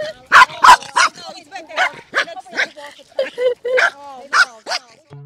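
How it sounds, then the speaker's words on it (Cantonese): A dog barks repeatedly on a countryside walk in England's Lake District, a quick series of close, loud yappy barks and yips in an uneven rhythm with a voice speaking briefly among them. "你唔好吠人哋啦！"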